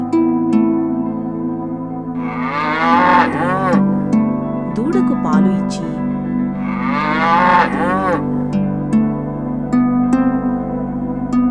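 A cartoon cow in an animated children's story about a cow and a tiger gives two long, drawn-out moos, close and loud over a steady musical background.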